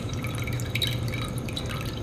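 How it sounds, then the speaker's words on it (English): Beer dripping from a keg line onto a towel on the floor, a steady close patter of soft drips over a low background hum. "It drips onto the towel"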